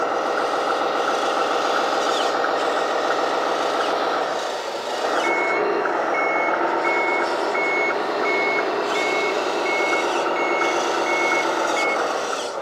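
MT946-3 wheeled three-arm RC excavator with clamshell bucket driving, steady engine drone under a continuous run of regular high-pitched reversing beeps, loud and close with no talk.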